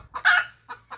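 A chicken clucks in short bursts, one louder call followed by two quicker, softer clucks, close by and with no talking over it.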